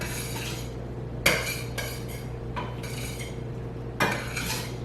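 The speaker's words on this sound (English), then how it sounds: "Then I stir it around a little bit" Noodles with melted butter, salt and pepper stirred in a pot: a few sharp spoon clanks against the metal rim among softer scraping strokes, close up over a steady low background hum, no talking.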